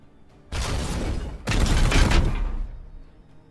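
Sustained bursts of heavy gunfire from the video game Warhammer 40k: Chaos Gate - Daemonhunters, two loud noisy volleys back to back, the second longer and denser, with no talk over them.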